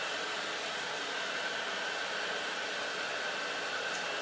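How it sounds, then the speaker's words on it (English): A blow dryer aimed at a plastic Dollar Tree pumpkin, blowing a steady, even whoosh of airy noise from start to finish with no talking. "Use your blow dryer, not a heat gun on these things because the heat gun will melt them."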